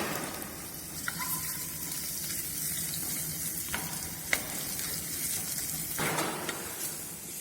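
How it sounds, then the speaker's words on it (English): Around 100 grams of onion sautéing for tomato chutney in a hot sauté pan, a soft continuous sizzle with a few faint utensil taps, quiet and steady, no talking. "you don't need to brown these onions, you need to saute these onions"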